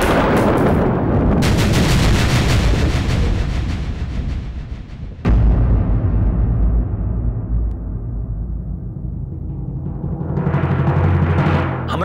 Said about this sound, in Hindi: फिर से गोली चलाओ।